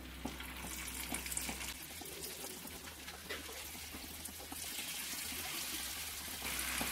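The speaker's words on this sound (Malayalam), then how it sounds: "ഇനിയിപ്പോ ഇത് നമുക്ക് ഫ്രൈ ചെയ്തെടുക്കാം" Small pieces of bread snack dough fry in hot oil, a dense, steady sizzle and crackle that fills the whole stretch with no talking.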